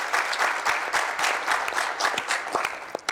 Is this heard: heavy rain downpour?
no